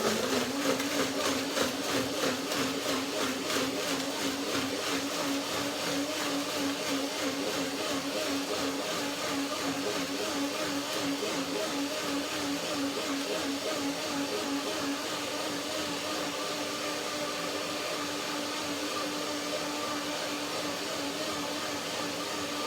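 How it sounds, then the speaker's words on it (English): A blender runs continuously, a loud whirring motor drone with a steady buzzing pulse that holds throughout, close up and without speech. "And the blender dance."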